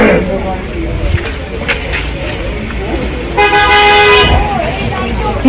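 Car horns toot and honk in a traffic jam around a wedding procession, short beeps early on, then a longer sustained blast near the end, over road traffic noise with people talking nearby.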